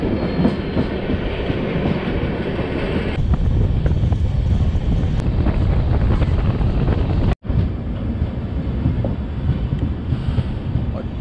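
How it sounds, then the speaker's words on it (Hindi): Udyan Express passenger train pulling into Krishna railway station in the rain, with a steady loud rumble of rolling carriages and wheels, clickety-clack and wind buffeting the microphone, interrupted by a brief dropout. "ट्रेन हमारी पहुंच चुकी है कृष्णा रेलवे स्टेशन"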